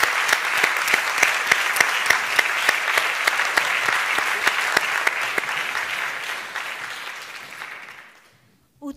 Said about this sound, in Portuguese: brilhante este solo de flauta de Gil Filipe, a quem peço mais um forte aplauso